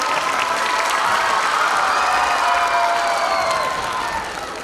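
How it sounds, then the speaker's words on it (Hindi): Children at a school annual day function clap for their parents, a dense sustained wave of applause with crowd noise and a few cheers, loud throughout and tapering slightly at the end. "सभी बच्चे एक बार पेरेंट्स के लिए भी तालियां बजाएं"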